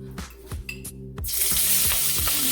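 Scallions hit hot oil in a pot and burst into a loud, steady sizzle that stays close and constant, with a few soft clinks and stirring scrapes beforehand.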